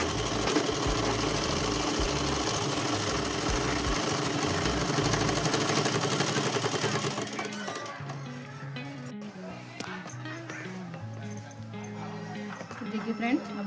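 A sewing machine stitches a dress seam, running loud and steady for several seconds before stopping, after which faint handling noises and a voice follow.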